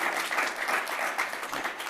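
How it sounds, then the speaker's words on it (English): An audience at a policy summit claps in a brief, steady round of applause, moderately loud and even, with no speech over it. "It's very much so worth the round of applause"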